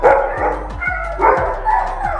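Several dogs bark loudly and close by in quick, uneven bursts, with sharp barks overlapping throughout and no voices.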